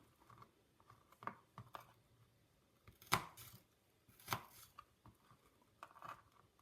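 Knife cutting through a fresh onion that falls apart on the board, a handful of sharp, separate chops and slices spaced irregularly, close and moderately loud against a quiet kitchen background.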